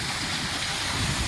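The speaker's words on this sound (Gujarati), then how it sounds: "અહીંયા ડેમનું પાણી સરસ આવે છે" Dam water runs through a channel beside a farm field, a steady close broadband rush with no breaks across the short stretch.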